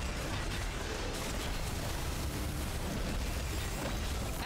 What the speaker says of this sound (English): Particle accelerator. Fire. Target locked. Fire.